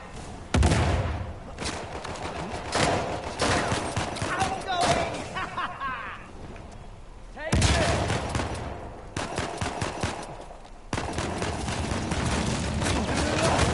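Bursts of video game gunfire from Drake's Bishai weapon, rapid repeated volleys with short pauses between them, under a player talking.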